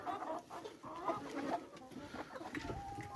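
Soft, low clucking from hens, a few short murmured calls over quiet background noise.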